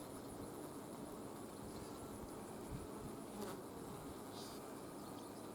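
Honeybees buzz over a hive frame as a newly emerged young bee is walked over, a dense, steady drone of many wings held close and continuous throughout.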